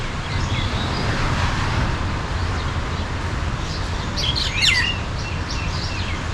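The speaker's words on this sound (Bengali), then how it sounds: "এই পাশের বিশাল গাছটি অনেক পাখির বসবাসস্থল।" Birds chirp and tweet from a large tree, with scattered bright calls over a steady hiss of wind and distant road traffic, growing busier toward the end.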